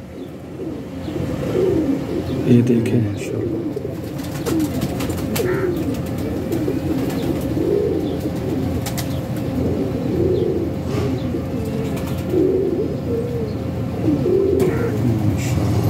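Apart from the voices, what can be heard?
pigeons cooing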